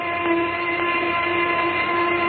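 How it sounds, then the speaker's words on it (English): A noon whistle blows in a steady, loud, sustained tone with a strong low pitch, unbroken and without talk. "There's the noon whistle."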